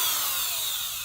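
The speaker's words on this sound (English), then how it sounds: "looks like it's a Skill Corporation drill. Plugged in, and here we go." A corded Skil power drill whirring steadily at high speed, a bright continuous motor whine that winds down slightly toward the end.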